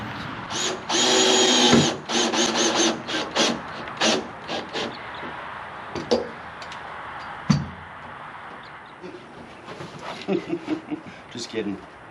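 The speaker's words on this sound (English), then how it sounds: "whenever you drill this, don't put it on the inside, put it on the metal that sticks out" A power drill boring holes to mount a storage box on a truck, running in several short, loud bursts separated by pauses and clanks, with a voice talking between the bursts.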